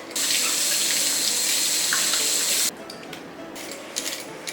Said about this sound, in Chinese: 青椒也洗干净，猪肉也洗一下。